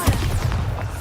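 Bombarda spell explosion in Hogwarts Legacy, a loud burst with a booming low thump and a few rapid cracking impacts packed into about a second.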